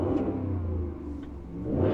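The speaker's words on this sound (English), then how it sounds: "You can already probably hear that catback exhaust." A 2022 Ram Rebel GT pickup with a catback exhaust starting up, giving a steady, loud low rumble and whir that swells slightly near the end, with no talking.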